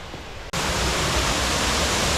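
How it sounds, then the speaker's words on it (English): A waterfall in Vancouver Island backcountry roars as a loud, steady broadband rush that cuts in abruptly after a brief, quieter half-second and then holds without a break. "Found another waterfall."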